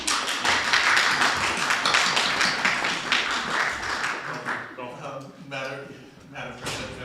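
Dense clapping from an audience at a school district board meeting rises loud at once, holds for about four seconds, then thins out as talk takes over.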